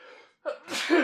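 A single sneeze bursts out loud and close after a brief quiet gap, a sharp breathy intake followed by a broad explosive release that fades within a second.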